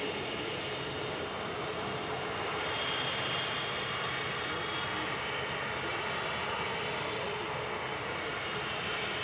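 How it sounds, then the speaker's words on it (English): Aer Lingus Regional ATR 72-600 turboprop landing at Manchester Airport from Dublin, a continuous broad engine roar and rushing hiss holding fairly level throughout, moderately loud with no voices. "Landed in parallel was Aer Lingus Regional 3324 from Dublin."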